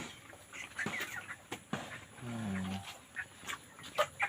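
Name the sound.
poultry chickens clucking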